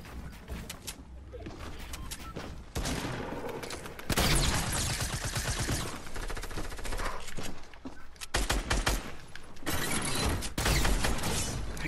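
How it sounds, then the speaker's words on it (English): Rocket launcher fire in a video game, a loud, dense barrage of blasts and rattling mechanical clatter that runs without pause and swells in intensity partway through. "A nigga got a rocket launcher. Rocket launchers are so spam."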